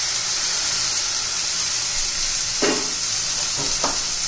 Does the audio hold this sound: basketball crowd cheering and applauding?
no